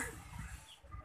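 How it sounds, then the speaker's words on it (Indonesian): Chickens cluck repeatedly at close range around a home, a steady stream of low clucking calls with no talk over them. "ada ayam abak"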